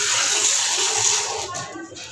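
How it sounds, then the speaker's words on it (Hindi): Water is poured from a tap onto fresh coriander leaves to soak them, a short steady splashing gush that tapers off toward the end. "और मैं ये धनिया में थोड़ा सा पानी डाल के रख देती हूँ"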